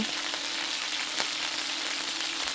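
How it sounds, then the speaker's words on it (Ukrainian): Beef sizzles steadily in a hot pan, a constant crackling hiss with one brief clatter midway. "Будемо смажити наступну порцію."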